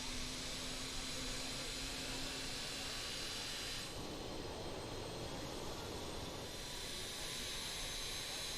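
A jet engine spools up in a Microsoft Flight Simulator 2020 airliner, a steady loud roar and whine that shifts in tone partway through, with no voices.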